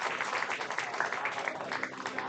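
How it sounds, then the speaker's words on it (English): A crowd at an American Legion baseball game, Post 22 Hardhats against Cheyenne Post 6 Sixers, gives a standing ovation. Sustained clapping runs throughout at an even level, with crowd voices mixed in. "gets a standing ovation from the crowd"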